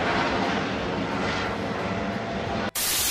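A helicopter's steady, rumbling engine roar fills the air overhead, loud and continuous, broken by a brief cut near the end.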